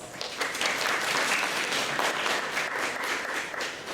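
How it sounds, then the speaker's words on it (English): At a high school psychology honor society ceremony, an audience gives sustained applause, a steady wash of many hands clapping, moderately distant and fairly quiet throughout. "Thank them and give them a round of applause."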